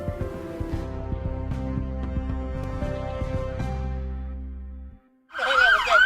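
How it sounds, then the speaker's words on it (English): Wailing police car siren from a Kingston police car leading off a Christmas parade, sustained and loud for about five seconds before cutting out, followed by a brief burst of other noise. "we see our first Kingston police car coming through"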